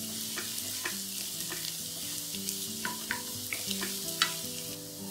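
Mushroom chilli cooks in a pan over a high flame, sizzling and frying steadily up close while a utensil scrapes and stirs in repeated strokes. Nobody speaks.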